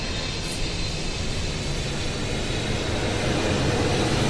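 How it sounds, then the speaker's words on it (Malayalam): An airplane on its landing route passing low over a house, a continuous loud engine roar that fills the whole stretch without pause. "ഫ്ലൈറ്റിൻ്റെ ഒച്ച കേൾക്കുന്നുണ്ട്"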